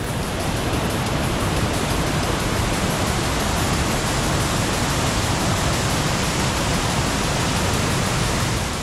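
A very active waterfall roars loud and steady along a snowy mountain backpacking route with large boulders, a dense unbroken rush of water filling the whole clip with no voices.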